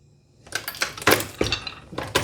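Newly formed 300 Blackout brass rifle cases, cut and trimmed from 223 brass, clink and rattle together in a quick burst of bright metallic taps, close and fairly quiet, with no talking.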